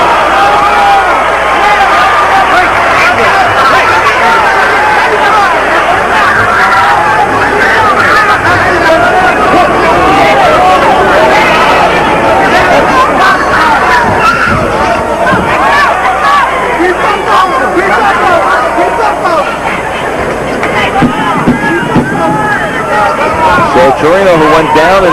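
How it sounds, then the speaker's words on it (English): A hometown arena crowd at a Roy Jones boxing match roars and murmurs in a continuous loud wash of cheering and babble, with a commentator's voice talking over it. "The hometown crowd reveling in"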